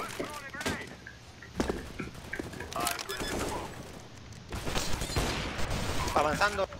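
Gunfire in Counter-Strike: Global Offensive, scattered sharp shots and short bursts at moderate level, mixed with game effects and players talking over them.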